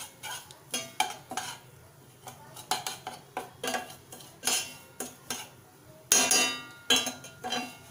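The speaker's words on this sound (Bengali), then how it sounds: "একটু ভাজা ভাজা করে নিচ্ছি।" Semolina toasting in a pan is stirred with a metal spoon: repeated close scrapes and clinks against the pan come in uneven bursts, a louder flurry near the end.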